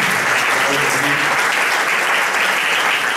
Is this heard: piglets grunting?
no